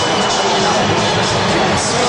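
A loud, dense crowd roars and cheers without pause as boxer Manny Pacquiao arrives at the MGM Grand in Las Vegas, a broad wall of noise with babbling voices mixed in.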